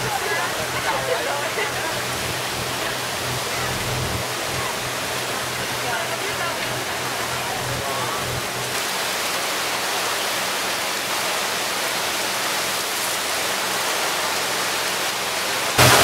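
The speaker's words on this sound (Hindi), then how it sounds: "देखिए काफ़ी बारिश हो रही है" Heavy rain pours down at a Saigon River bus stop in Ho Chi Minh City, making a dense, steady hiss close by that is briefly quieter midway before it resumes. A voice talks faintly under it.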